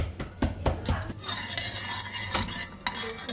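Whole spices (caraway cumin, peppercorns, cloves, cardamom and a little cinnamon) are stirred in hot oil in a pan: a quick run of close metallic clinks and scrapes, then steady scraping with a faint sizzle underneath.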